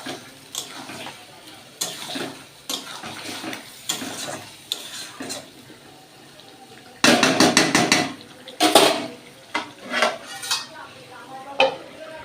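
Meat frying with Kashmiri chili powder in a pan, stirred with a utensil that clanks and scrapes the metal in irregular bursts, louder clusters midway, close and without talk.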